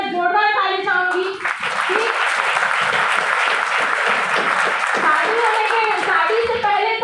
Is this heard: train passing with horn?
no